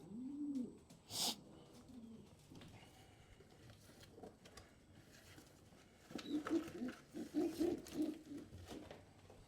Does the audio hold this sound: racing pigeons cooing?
yes